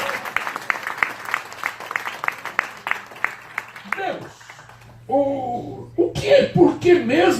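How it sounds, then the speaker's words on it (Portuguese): Church congregation applauding during a sermon, a dense run of claps lasting several seconds before fading, then a voice speaking from the pulpit. "Você pode aplaudir outra vez"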